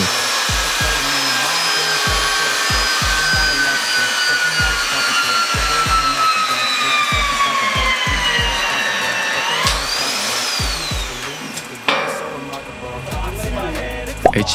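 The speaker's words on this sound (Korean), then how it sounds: "반대편도 샤렌치로 고정 작업을 진행해주고" A shear wrench tightens bolts on a steel H-beam at a building reinforcement site. A loud, steady power-tool whine with rapid rhythmic knocking runs throughout, then the pitch rises and shifts near the end.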